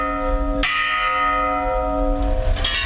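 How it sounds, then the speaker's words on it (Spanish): A church bell tolls for mourning with sustained, ringing tones, struck again partway through, the hum lingering between strikes. "Es un lugar que da el toque de campanas en señal de duelo."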